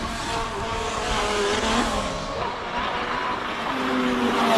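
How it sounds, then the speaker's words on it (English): A Ferrari 488 GT3 race car at a hill-climb speed event drives past with a loud, continuous engine roar and shifting pitch, its sound building again toward the end. "Marcel Angel with the Ferrari 488 GT3."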